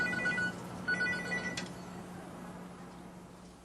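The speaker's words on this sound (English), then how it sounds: "the cell phone isn't drowned at all. It's actually ringing." A cell phone rings while submerged in Sapphire fire suppressant liquid, a few short, thin electronic ringtone bursts in the first seconds, faint and somewhat muffled, before trailing off into quiet hiss.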